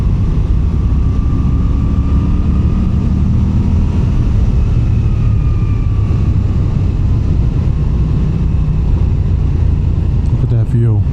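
2022 Moto Guzzi V9 Bobber lugging along in third gear at low revs through a turn, a steady, loud engine rumble under constant wind buffeting with a voice talking over it.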